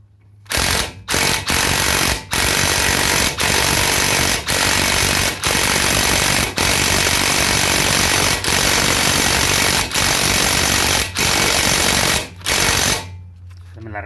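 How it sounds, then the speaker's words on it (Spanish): A pneumatic impact gun hammers loudly and continuously in a workshop while a car's strange driving noise is being checked, its rapid rattling burst broken by short pauses roughly every second or so. "se oye mucho escándalo con la pistola"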